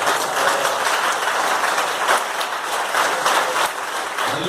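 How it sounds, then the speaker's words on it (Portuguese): A round of applause from a church congregation during a worship service, loud close clapping from many people, steady with slight surges, no talking. "Vou dar mais uma linda salva de palmas ao Senhor."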